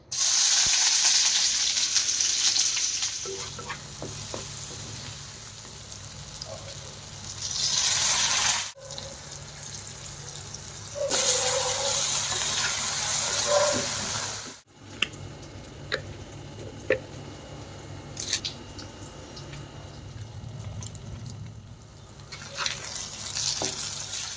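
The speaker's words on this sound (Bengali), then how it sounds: "মটরশুঁটি গাজর ক্যাপসিকাম টমেটো আর পেঁয়াজ লঙ্কা এই কটা সবজি দিয়ে একটু কিছু ভাজা ভাজা করে নেব" Peas, carrot, capsicum, tomato, onion and chilli fry in a pan, a sizzling hiss that comes in loud stretches and drops away between them. Scattered clicks and what sounds like running water pass through the quieter gaps, with no talking.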